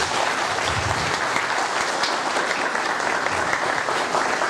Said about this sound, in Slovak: Takže taký veľký potlesk preto.